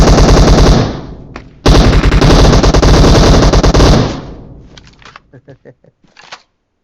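Loud automatic gunfire in the PUBG Mobile video game rattles in two long, rapid bursts, followed by scattered shorter shots and clicks that fade out.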